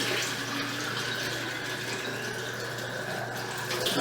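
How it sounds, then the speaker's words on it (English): Steady rush of tap water running from a faucet into a water bottle, a continuous, moderately quiet splashing stream lasting throughout with no voices. "Okay, now we're going to fill up the water bottle. So you turn on the water"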